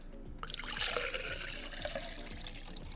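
Water is poured steadily in a continuous splashing stream that starts abruptly and stays fairly loud, with bright fizzing and trickling throughout and no voices.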